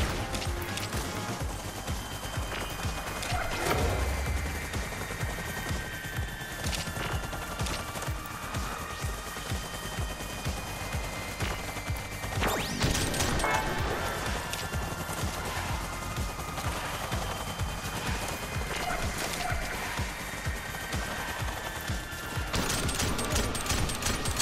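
Gunfire in the video game Rollerdrome comes in rapid bursts and scattered shots over a busy game soundtrack, moderately loud, with short gaps between volleys.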